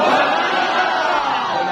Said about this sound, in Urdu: حضور دے نعرے مارو بس کافی دے